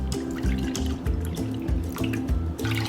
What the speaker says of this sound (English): So add in equal parts of water.